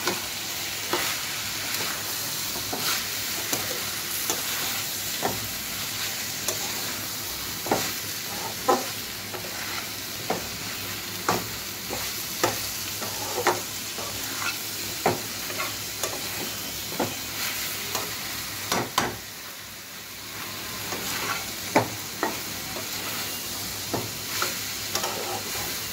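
Onions frying in a pan for a chicken roll: a steady bright sizzle with regular scraping stirs from a spatula, close up, with no talking.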